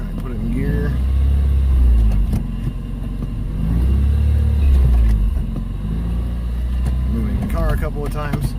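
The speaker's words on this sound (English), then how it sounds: "I'm still getting high RPM hang." A 2002 Nissan Sentra SE-R Spec-V engine, with a newly replaced throttle body, runs with its revs hanging high: a loud, steady mechanical drone that swells and eases, with brief bits of voice near the start and end.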